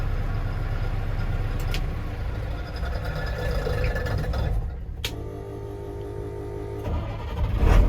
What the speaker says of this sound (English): Truck start.